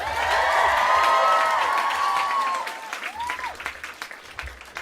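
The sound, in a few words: audience applause for NPR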